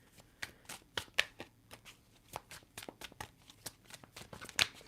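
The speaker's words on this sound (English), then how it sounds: "let's get some cards." A deck of playing cards is handled and shuffled close by, giving a run of quick, papery riffles and snaps at an irregular rhythm, with no talking.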